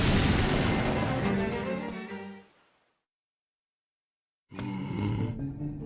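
A snoring sound from a character in the video game Zelda: Link's Awakening, a loud, rumbling game effect that fades out into about two seconds of silence before a shorter burst returns.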